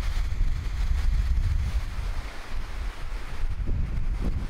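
Strong, cold wind on the Icelandic coast buffets the microphone in a steady low roar, gusting unevenly throughout with no voices.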